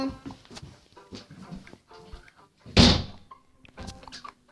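A door is shut with a single loud thud midway through, while people talk before and after it.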